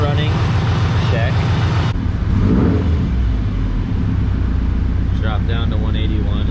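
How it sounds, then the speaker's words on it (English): An overheating Subaru idling on a 108-degree day with the AC on and both radiator cooling fans running, a loud, steady low engine rumble and fan whoosh close by, with a brief voice near the end. "I'm gonna let it idle for another 10-15 minutes"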